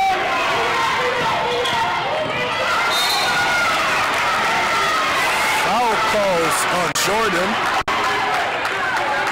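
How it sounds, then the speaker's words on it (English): High school girls' basketball game crowd voicing displeasure at a referee's call, a loud, continuous roar of voices and sneaker squeaks in a gym, with a commentator talking over it. "the crowd is letting the referee know they're not happy with that call right now"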